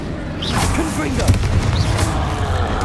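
In Hogwarts Legacy, the explosive Confringo spell is cast in the middle of a busy fight: booming blasts and crackling bursts crowd together under shouted voices and effects.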